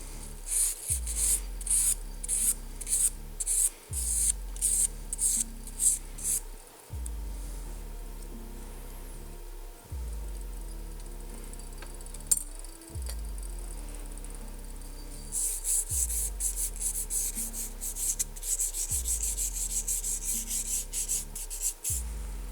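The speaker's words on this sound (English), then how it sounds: "Actually, I'll sand it a little bit." A circuit board edge for a eurorack OTA VC filter kit being sanded smooth by hand, with repeated rhythmic back-and-forth rasping strokes, close and fairly loud, pausing briefly partway before resuming.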